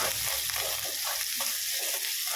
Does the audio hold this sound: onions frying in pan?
yes